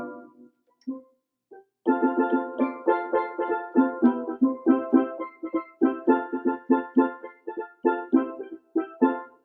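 Steel drums voice from a Yamaha PSR-220 keyboard: a couple of isolated struck notes, then a steady run of bright, ringing pitched hits in a lively melodic rhythm, played alone with no talking.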